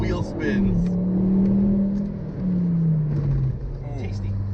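Volvo C30 with a new downpipe and exhaust revving hard, engine note rising and falling as the wheels spin, loud and close with people talking over it.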